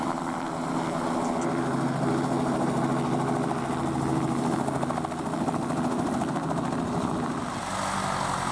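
A helicopter engine runs steadily at close range at a St Omer aero club open day, a constant rotor throb and whine filling the air without a break.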